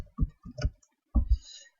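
Computer keyboard keys tapped in short clustered bursts with quiet gaps between, close and fairly crisp, no talking.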